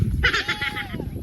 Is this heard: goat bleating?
yes